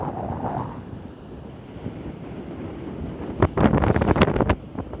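Waves break on a beach amid steady wind buffeting the microphone, with a rougher, louder surge of water late in the stretch; no one speaks.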